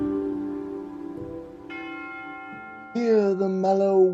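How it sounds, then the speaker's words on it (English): Sustained tolling bell tones ring out as wedding bells, long resonant pitches that overlap and swell, with a brighter, louder cluster of bells entering near the end. "Hear the mellow wedding bells, Golden bells"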